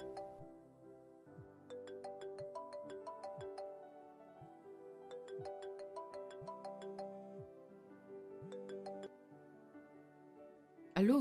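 A phone ringtone plays a repeating melodic chime pattern for an incoming call, steady and fairly quiet, with a short louder burst right at the end.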